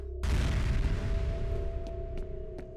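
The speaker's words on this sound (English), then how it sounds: "I just hear another explosion" Explosion in the game F.E.A.R., a sudden deep boom that starts sharply and rumbles on with a long low decay, followed by a few faint metallic clicks.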